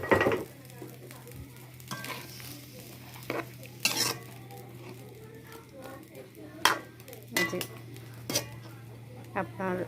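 Pointed gourd (potol) frying in a pan with fish, a soft steady sizzle underneath as a spatula stirs and scrapes, producing sharp intermittent metallic clinks against the pan.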